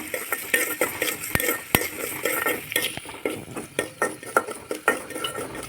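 Sliced onions and salt sauté in a pan, with a spoon scraping and clinking against the metal in a steady, uneven rhythm over a soft background sizzle, close and alone.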